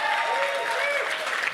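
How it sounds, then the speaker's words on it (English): Crowd applause at a live talk, broad sustained clapping filling the moment, with a voice faintly audible over it. "You can applaud for that again."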